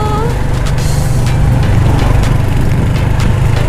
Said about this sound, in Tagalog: Riding a motor in this place.